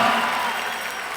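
Audience at an Odyssey of the Mind opening ceremony claps in a brief burst of dense applause that starts loud and tapers slightly over about a second.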